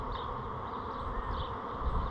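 Honeybees buzzing around an open hive while colonies are split, a soft steady hum that stays even throughout with no talking.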